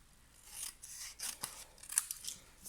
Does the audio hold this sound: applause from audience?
no